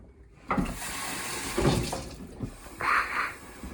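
Water is poured into a cup while cooking, with several short splashy bursts and one longer gurgling pour, heard close and fairly quiet with no talking.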